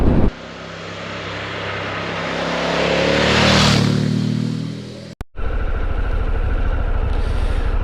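A Harley-Davidson Pan America motorcycle rides across toward town, its engine note swelling as it passes and then fading, followed after a brief break by a closer, steady engine rumble.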